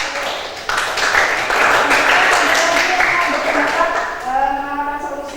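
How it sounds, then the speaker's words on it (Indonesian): Students in an Indonesian classroom clap for a classmate during a lesson on global warming. A burst of lively group applause fills the middle of the moment, and a voice speaks over the fading end. "Oke, kasih tepuk tangan buat Mas Aku."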